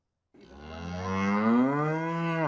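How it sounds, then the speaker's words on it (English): A red heifer kept in Shiloh lets out a single long, loud moo close by, rising and sustained for about two seconds with no voices present. "we have real kosher red heifers"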